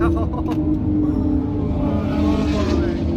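A car speeds past at high speed on a road, a loud continuous engine roar with a rising and falling pitch sweep as it goes by.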